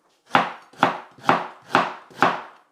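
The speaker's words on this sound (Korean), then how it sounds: "이거를 갈기 좋게 이제 썰어줍니다" A knife slices through firm, peeled ginger on a cutting board: five evenly spaced, crisp chops, each with a short decaying thud, close and alone.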